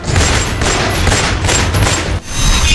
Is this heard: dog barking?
no